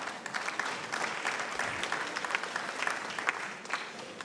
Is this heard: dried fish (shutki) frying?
no